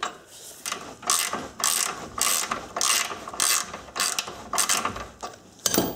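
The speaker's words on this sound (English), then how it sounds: "One more time and then we'll use a ratchet here." A hand ratchet works on tight suspension bolts during a lower ball joint replacement on a car. It makes close, loud bursts of rapid clicking, about eight strokes in a quick irregular rhythm, with no voices.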